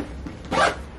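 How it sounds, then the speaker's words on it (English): A duffel bag zipper is pulled shut in one quick, close rasping stroke, with a few small handling rustles before it. "I'm just gonna zip it up prematurely to show you how it works"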